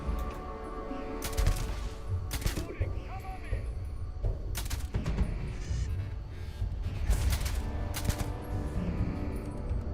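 Gunfire in the sci-fi game Starfield, with repeated sharp shots and bursts in irregular clusters over a steady background, and someone talking intermittently over the combat.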